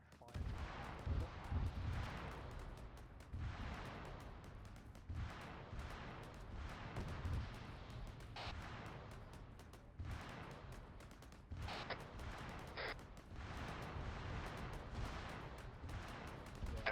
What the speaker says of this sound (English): We've just come under IDF fire.